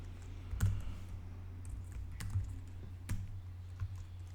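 Typing on a computer keyboard, heard as sparse, separate key clicks at an uneven pace over a low steady hum, fairly quiet and with no speech.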